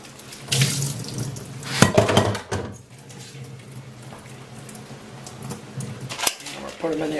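Hot water from a pot of boiled radishes splashes into a kitchen sink in bursts, loud and close, then gives way to quieter draining and clinking of the pot.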